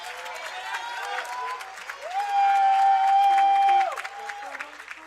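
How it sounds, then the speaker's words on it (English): Applause from a convocation audience for alumni Hall of Fame honorees, a fairly quiet wash of clapping under a prominent held tonal note that rises, sustains and drops away. "please let's give one more round of applause for all of our alumni Hall of Fame honorees"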